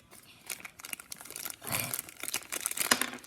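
Plastic and cardboard packaging of a toy box being torn open and crinkled by hand, a busy run of close rustles, crackles and rips with no speech.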